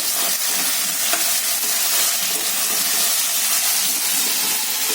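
Loud, dense sizzling hiss of cooked potatoes and vegetables with garam masala frying in a pan, steady throughout with faint stirring scrapes underneath, heard close up with no speech.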